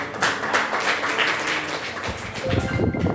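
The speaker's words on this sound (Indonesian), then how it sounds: "Beri tepuk tangan." A classroom group of students gives a round of applause, a dense patter of hand claps that fills the space steadily, with a brief burst of voices near the end.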